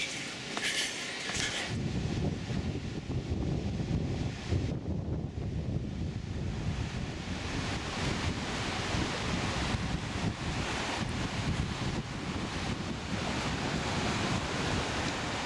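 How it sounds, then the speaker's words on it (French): Surf on Lamai beach, Koh Samui, Thailand, rolls in as a continuous broad wash of waves mixed with steady wind buffeting the microphone, loud and close, with no talk. "Donc là on est sur la plage de Lamai."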